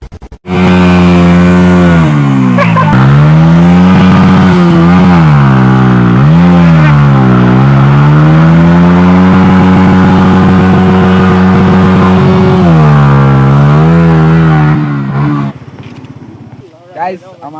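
A V3 motorcycle engine revving close and loud, its pitch rising and falling repeatedly for about fifteen seconds before it cuts off abruptly.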